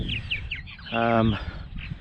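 Purple martins call at a nest box with chirps and a short burst of warbling chatter, fairly close, while a person speaks over part of it.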